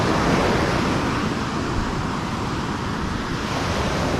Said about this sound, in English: we walked down the beach where my wife is